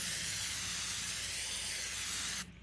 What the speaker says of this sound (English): Just give a little spritz, a little spray down.